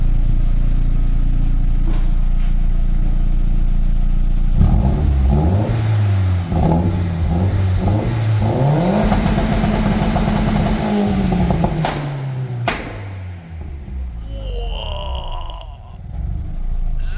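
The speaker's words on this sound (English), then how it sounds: "So the rev limiter, it sounds a lot better than the original rev limiter" A VW Golf Mk2 track car engine revs hard and bounces off its rev limiter, rising to a sustained buzzing wail that stutters at the limit, then drops away to a low idle as the revs fall off.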